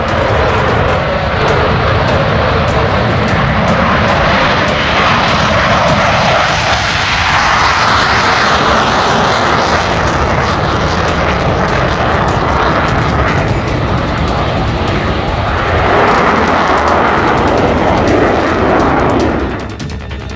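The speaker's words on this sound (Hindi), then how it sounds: "इस एडवांस फाइटर जेट के 5 जेट्स की पहली खेप ने फ्रांस के मैर्गनेक से भारत के लिए उड़ान" Dassault Rafale fighter jets fly overhead, producing a loud, continuous engine roar that fills the full stretch, swelling and easing slightly but never fading out.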